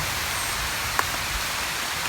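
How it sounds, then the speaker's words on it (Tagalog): Heavy rain falls in a steady, even hiss that carries on without a break, with no voices over it. "Oh my God. Parang seryoso yung ulan."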